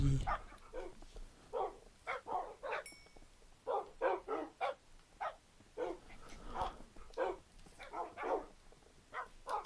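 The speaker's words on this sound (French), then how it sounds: "J'ai un peu beaucoup de chiens, mais ça le fait." Several dogs in Minecraft bark in a busy run of short, repeated yips and woofs that overlap at close range, without pause for about ten seconds.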